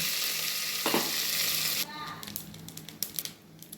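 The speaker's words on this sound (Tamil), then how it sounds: "கடுகு நல்லா வெடிச்சிருச்சு" Mustard seeds and curry leaves sizzle loudly in hot oil with a steady hiss, then settle into a series of sharp, irregular pops and crackles from the seeds bursting in the pan.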